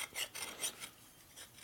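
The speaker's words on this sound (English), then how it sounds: "Hitting your piston with a fucking file." A hand file rasps against a big bore stroker engine piston in a few quick, faint back-and-forth strokes, a dry gritty scraping heard close up with no talking.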